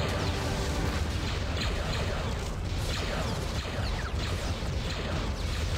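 Missiles strike a ship during a space battle in a Star Trek-style strategy game, a dense, continuous roar of booming impacts and rumbling explosions at constant loudness, no voices.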